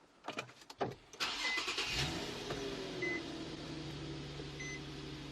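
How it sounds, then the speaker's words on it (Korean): A few clicks and a beep, then a large imported gasoline SUV engine cranks and catches, settling into a smooth, quiet, steady idle with soft chimes. "엔진 소리 너무 좋아요 정말 정숙하고요 가솔린 엔진답게 진짜 떨림 하나 없습니다"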